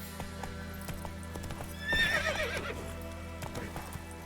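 A horse in The Witcher 3 video game gallops with steady rhythmic clip-clop hoofbeats over a low game hum, broken midway by a loud, shrill whinnying neigh.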